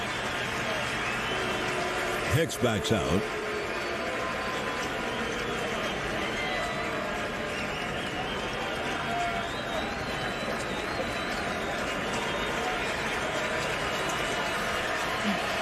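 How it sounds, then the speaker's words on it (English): Fans at a New York Yankees vs Chicago White Sox baseball game standing and clapping with two strikes and two outs, a steady roar of crowd applause under a broadcaster's commentary. "Fans standing with the clapping with the 2 strikes and 2 outs."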